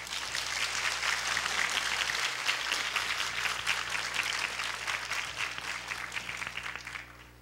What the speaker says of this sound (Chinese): 大家给他一个最热烈的掌声好不好